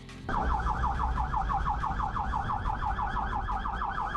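Emergency vehicle siren wailing steadily in a rapid up-and-down pattern amid traffic, loud and continuous throughout with no voices.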